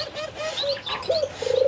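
Pigeons and other birds coo and chirp close by in short repeated calls, some overlapping, with no talking.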